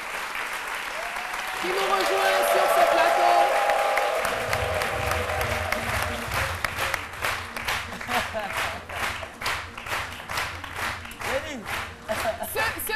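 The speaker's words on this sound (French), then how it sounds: "Son nom, c'est Digwe Pascal, que je vous demande d'applaudir." Studio audience applause on a French-language television talk show, swelling into a loud, dense wash of clapping that carries on for many seconds, with a presenter's voice speaking over it at the start.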